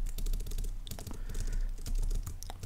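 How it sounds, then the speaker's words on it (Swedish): Keys on a computer keyboard are pressed in a steady run of crisp, close clicks and taps, including presses of the long space bar, with no talking. "trycka på mellanslagstangenten på ditt tangentbord, alltså den avlånga"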